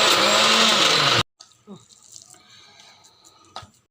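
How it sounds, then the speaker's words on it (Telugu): An electric mixer grinder whirs loudly while grinding white gongura pickle with tamarind, then cuts off abruptly after about a second, followed by faint clinks and handling sounds. "ఇప్పుడు దీన్ని మళ్ళీ మిక్సీ పట్టుకుందాం."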